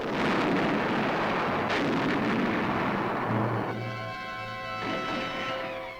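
Deep, rumbling booms of cannon firing shells roll continuously, heavy and distant-sounding, with a faint mechanical whine fading in near the end.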